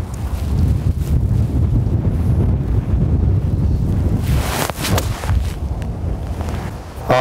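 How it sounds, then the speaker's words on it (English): Strong wind roaring steadily across a golf course microphone, a loud continuous buffeting rumble with gusts throughout, no talking. "So this wind's really picking up now."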